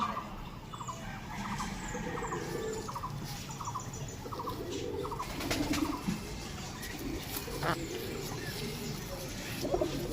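A very active pigeon coos and squeals while held in the hand, with short repeated calls coming close and fairly loud over a busy background of other birds.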